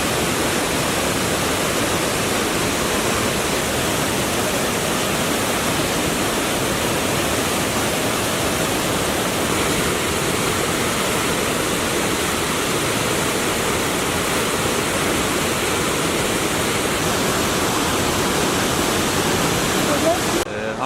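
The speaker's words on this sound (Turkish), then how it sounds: "Su sesi mükemmel." Steady, dense rush of falling water at Yerköprü Waterfall in Konya, Turkey, loud and constant throughout with no breaks, like standing close to the falls.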